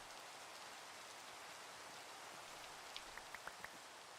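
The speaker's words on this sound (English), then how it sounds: "So we're going to have to listen to the rain." Rain falling in the Minecraft video game, a soft, steady hiss of drops at low level with a few faint pattering ticks toward the end, no talking.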